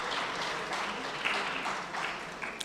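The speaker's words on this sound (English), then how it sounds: "That deserves a round of applause, please." An audience applauds at a fashion event, a steady broadband wash of many hands clapping at a moderate distance, continuous throughout with a few sharper claps standing out near the end.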